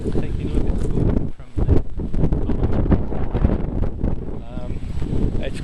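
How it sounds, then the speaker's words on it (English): Strong wind buffets the microphone outdoors in a garden where trees are blowing around, with gusty rumbling bursts under a person talking. "it's quite windy"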